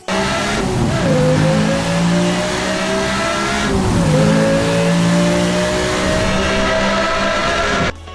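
A sports car engine in the video game Need for Speed Hot Pursuit revs hard and climbs through gears, with a loud sustained roar and two quick dips between shifts, plus tire squeal; no voices.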